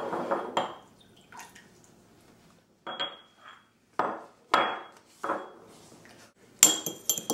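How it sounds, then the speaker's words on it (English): Red wine vinegar, extra virgin olive oil, salt and pepper are mixed in a bowl, heard as scattered short clinks and scrapes of utensil against dish with quiet gaps between them, close and moderately loud. "mix your red wine vinegar and your extra virgin olive oil with some salt and pepper"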